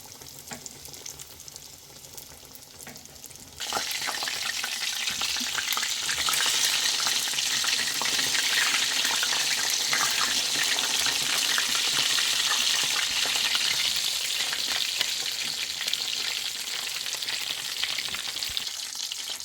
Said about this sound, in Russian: Снова жарим по 3-4 минуты с каждой стороны